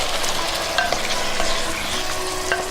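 A can of diced tomatoes gets stirred into a pot of vegan chili, with wet scraping and sloshing over a continuous sizzle, close and busy with no talking.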